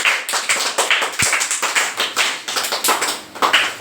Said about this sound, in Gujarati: આ ત્રણેયને જોરદાર તાળીઓથી વધાવી લો.